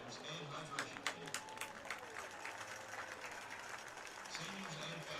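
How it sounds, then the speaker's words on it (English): Crowd applause at a high school football game between Alabama Christian and Montgomery Academy, honoring senior players: scattered clapping and cheering in an open stadium, moderately distant, with a few sharper claps early and an announcer's voice faintly over it. "please give a round of applause for all of our senior football players and hydration team"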